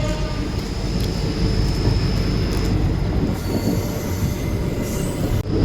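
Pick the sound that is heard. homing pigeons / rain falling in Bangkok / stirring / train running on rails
train running on rails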